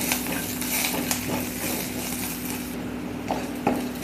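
Cloves, black pepper and a bay leaf fry in a pan as a spice masala, giving a continuous soft sizzle with scattered light clinks and stirring scrapes.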